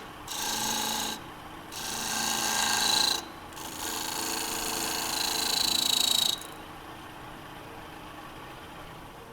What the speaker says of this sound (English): if this is a very small detail gouge, and just get little rings in here